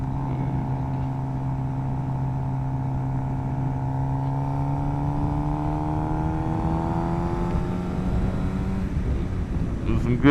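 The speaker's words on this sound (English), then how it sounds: "And we do some accelerating, some hard acceleration." A 2025 Suzuki GSX-R 750 sport motorcycle holds a steady engine drone whose pitch climbs slowly and evenly for several seconds before easing off. Wind rushes past the microphone the whole time.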